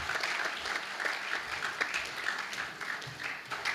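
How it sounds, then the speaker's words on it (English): A parliamentary audience gives a round of applause after a speech by an MEC, a steady wash of many hands clapping together for several seconds with no voices over it. "Let's give him a round of applause, Honorable MEC, on behalf of the Premier."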